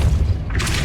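Depulso spell impact in the Hogwarts Legacy video game, a single short, deep boom with a heavy low thud, loud and close, fading quickly.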